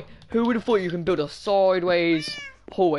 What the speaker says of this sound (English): See that cat meow? That's a cat meow.